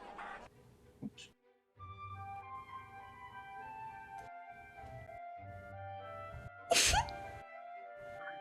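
A single sharp, close sneeze bursts out near the end, following a stretch of low hum and faint background sounds.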